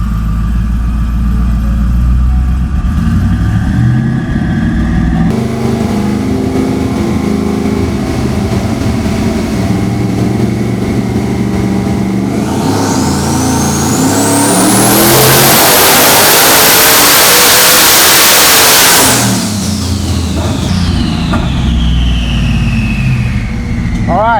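A Ford F150 truck engine on a dyno roars loud and close through a boosted pull, rising from idle into a long climbing rev that peaks in a high whine before dropping back, with a voice briefly audible.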